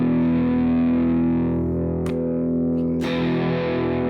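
A 2020 Epiphone SG Special electric guitar on its P90 neck pickup rings out with a sustained, distorted chord, thick and fat in tone, then two sharp pick attacks or strums break in near the end, with no talking.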